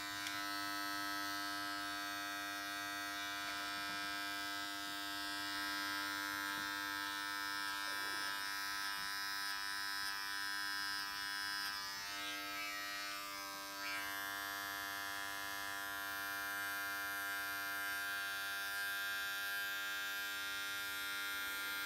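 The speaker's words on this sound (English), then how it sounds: "We're just going to use a scooping motion with the clipper in the all the way open position." An electric hair clipper, blade lever fully open, buzzes steadily while cutting a high fade for an Ivy League haircut. The hum is constant and fairly soft, with slight changes in tone as it scoops through the hair.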